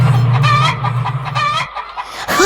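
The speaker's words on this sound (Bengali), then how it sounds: "এই খাঁচার মুরগিগুলোকে সব কটা দূর করে দিন এক্ষুনি।" Caged chickens cluck and squawk close by in a steady, busy chorus, with a brief crow-like call rising near the end.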